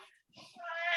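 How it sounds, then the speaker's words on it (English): A pet cat starting to retch and vomit indoors, a brief rising, strained, wheezy heave that grows louder toward the end after a short quiet gap, with a voice faintly audible before it. "Now my cat's starting to puke."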